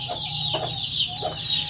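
Koli chicks and hens cluck and cheep close by in a short burst, several quick soft clucks repeating over a steady high chirping background.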